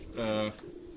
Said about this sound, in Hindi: अब ये दोस्तों डॉक्टर साहब के अपने घर के ये कबूतर हैं